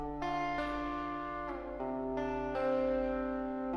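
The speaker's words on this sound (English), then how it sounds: "then I recorded another guitar melody sounding like this." A recorded guitar melody for a deep house production plays alone, sustained notes sliding between pitches in a smooth, up-front line with a steady level throughout.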